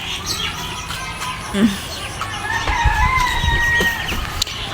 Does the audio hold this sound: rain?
no